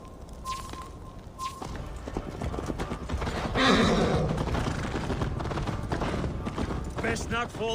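Horse in the video game Assassin's Creed Valhalla, a loud whinny midway over steady clip-clopping hooves, with a couple of brief tones early on and voices talking underneath.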